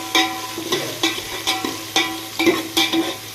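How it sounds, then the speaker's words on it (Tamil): Large onions are sautéed in a pan for vegetable biryani, with rhythmic spatula strokes scraping and tapping about twice a second over a soft sizzle, close and fairly loud, no voices. "பெரிய வெங்காயம் அது போட்டுக்கலாம் அது போட்டு கொஞ்சம் நல்லா வதக்கி வைக்கணும்"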